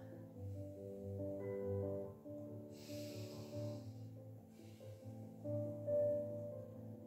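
A slow, airy exhale during a seated yoga twist breathing exercise, heard as two soft breathy hisses over steady, gentle background music, faint and close.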